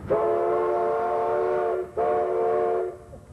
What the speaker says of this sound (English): that's a real nice sound whistle there, John.